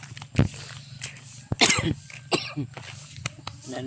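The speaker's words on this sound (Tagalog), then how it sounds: "Umatake yung ubo ko." Several harsh coughs in separate bursts, close to the listener, with quiet pauses and faint background noise between them.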